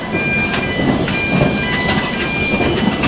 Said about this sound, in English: the steam train that is pulling us along today